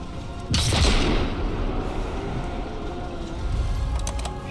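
A rocket explosion in a sniper video game lands as a sudden heavy boom, followed by a long rumbling roar that slowly fades, with a few faint sharp clicks near the end.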